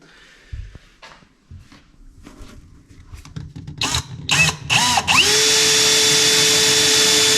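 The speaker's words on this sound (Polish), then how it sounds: "działamy w takim razie z otwornicą" Scattered taps and scrapes, then a power drill with a hole saw starts cutting an HPL countertop, with rising whines that settle into a loud, steady high-pitched drilling hum.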